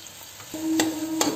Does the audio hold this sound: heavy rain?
no